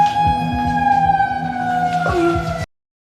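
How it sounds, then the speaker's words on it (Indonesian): Wailing emergency siren in a film scene, a loud sustained tone rising and falling over pulsing engine rumble before cutting off abruptly. "tiba-tiba sirine terdengar di luar"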